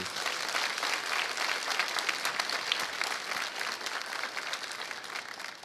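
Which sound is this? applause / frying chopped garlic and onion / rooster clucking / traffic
applause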